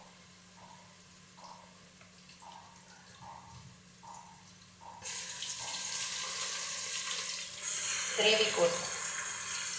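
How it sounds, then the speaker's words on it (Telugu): Water poured steadily into chicken dum biryani gravy as it cooks in the pot, a rushing splash that starts midway and carries on to the end, with a voice talking faintly beside it. "ఈ వాటర్ కర్రీకి పోసేసుకుందాం సరిపోకుంటే"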